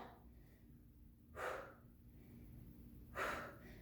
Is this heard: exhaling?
yes